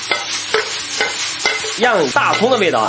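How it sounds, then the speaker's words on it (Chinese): Lamb and scallions are tossed quickly in a hot wok: loud, close sizzling broken by regular scraping strokes of a spatula, with a voice speaking over the last part. "快速的把羊肉和大葱翻炒在一起"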